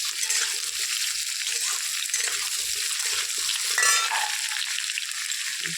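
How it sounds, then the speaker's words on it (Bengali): Potatoes sizzle in hot oil in a pan after pointed gourd was fried, a steady close crackle with occasional scraping and clinks of stirring and no talking. "আলুগুলো ভালো করে ভেজে নেব।"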